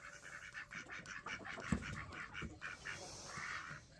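Backyard ducks kept with turkeys, guineas and chickens quack in a noisy cluster at night, a steady run of overlapping calls at moderate distance, faint and busy.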